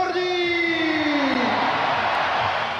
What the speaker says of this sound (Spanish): El aplauso para Claudio Borghi.